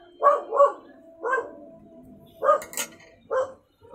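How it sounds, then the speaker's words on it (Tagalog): A dog barks about five times in short, muffled bursts, some paired in quick succession, with brief gaps between, indoors and fairly close. "Pasensya na yung aso ko, guys."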